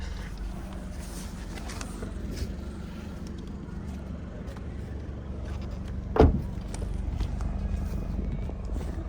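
Driver's door of a 2025 Toyota GR86 Premium opening as the driver steps out, one sharp close clunk partway through over a steady low engine and road hum.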